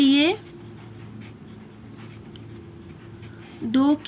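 Marker or chalk scratches steadily across a board as divisibility rules are written out for a math lesson, soft close strokes with a voice speaking at the start and end.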